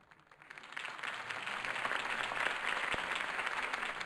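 Crowd applause at Harvey Dent's campaign rally in Batman: The Telltale Series swells up within the first second and holds as a steady, broad wash of clapping at moderate distance.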